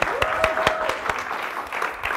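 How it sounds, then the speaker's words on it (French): Audience applause at a French-language church talk, a steady wash of clapping with a few sharper claps standing out, fairly close and lasting the whole moment without speech over it. "On les applaudit."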